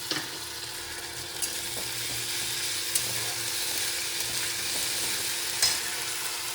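Ginger garlic paste frying in a pan for home cooking, a steady close sizzle with occasional stirring scrapes and small pops throughout, with no talking.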